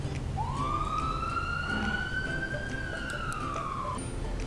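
A single ambulance siren wail rises, holds, and slowly falls over a few seconds above a steady low traffic rumble, moderately loud.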